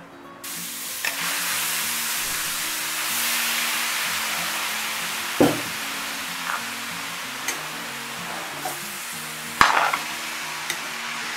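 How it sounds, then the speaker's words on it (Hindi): Ground carrot for gajar halwa hits hot ghee in a pan and fries with a broad steady sizzle, punctuated by a few sharp clicks and knocks of a utensil. "अब मैं घी में डालूंगी गाजर जो हमने ग्राइंड करके रखी हुई है"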